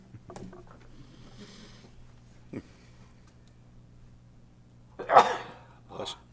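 During a council committee meeting, a single sharp allergy-season sneeze bursts out after a quiet stretch with a few faint clicks and rustles, followed by a short softer sound.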